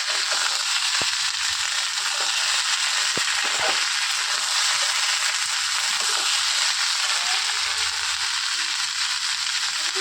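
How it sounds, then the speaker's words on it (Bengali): Pumpkin and potato pieces tossed in a pan for a home curry, a constant hissing sizzle with a few sharp knocks and scrapes of the spoon, loud and close, no talking. "এবারে আমি ভালো করে নাড়াচাড়া করতে থাকবো, যাতে একটু মানে কুমড়োগুলো আলুগুলো একটু গাপোড়া গাপোড়া মতো হয়।"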